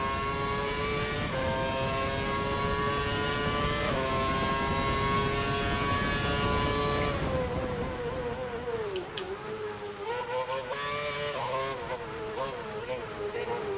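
A Formula 1 car engine in the racing video game F1 2012 screams at high revs, with stepped gear shifts and sharp rises and falls as the car slides through corners.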